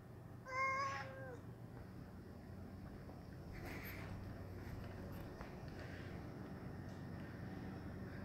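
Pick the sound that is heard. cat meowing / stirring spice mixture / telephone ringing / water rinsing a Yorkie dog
cat meowing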